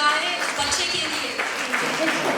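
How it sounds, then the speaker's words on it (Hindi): Audience at a Christmas celebration applauding for a child, a steady wash of clapping lasting the whole moment, with voices mixed in underneath. "सब लोग जोरदार ताली बजाएं बच्चे के लिए"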